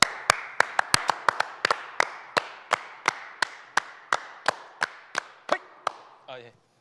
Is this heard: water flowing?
no